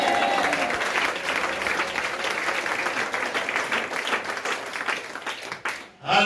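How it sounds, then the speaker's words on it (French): A church congregation claps and cheers in praise during a sermon, dense sustained applause filling the room for several seconds before tapering off briefly at the end. "Dis Amen et acclame le Seigneur."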